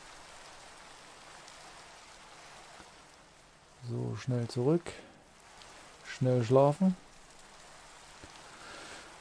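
Steady soft rainfall in the video game Minecraft hisses throughout, with two short bursts of speech over it midway.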